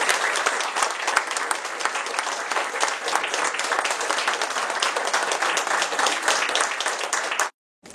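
Loud, sustained applause fills a hall at a Kuršėnai youth awards ceremony as an award winner is called to the stage, dense steady clapping continuing for several seconds before cutting off abruptly near the end.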